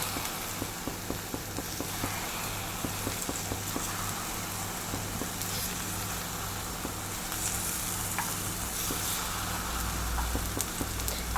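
Pieces of ripe ethakka banana fry in a pan with a steady, dense sizzle and crackle that runs unbroken throughout, close and moderately loud, with no one talking.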